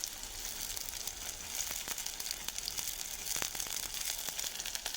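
Ginger sizzling in hot oil with onion and green chili, a steady crackling hiss with scattered sharp pops, moderately close and without talk.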